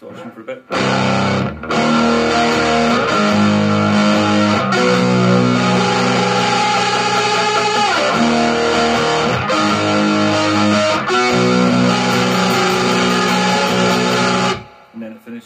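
Electric guitar with lighter distortion plays sustained chords and melodic lines from a song at steady volume, brief gaps between phrases, no talking.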